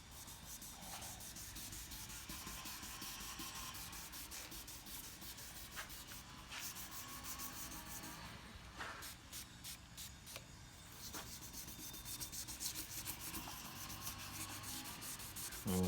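Wet sanding of a 2008 Honda CR-V headlight lens: a steady, continuous rasping rub that runs throughout at close range, with brief pauses in the stroke, and no voices.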